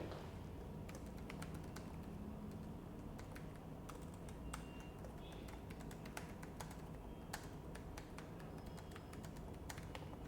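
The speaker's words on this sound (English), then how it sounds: "So in this input message, I'll type something here." Typing on a computer keyboard while entering a message into a spreadsheet, with quick irregular key clicks, faint and steady over a soft background hiss.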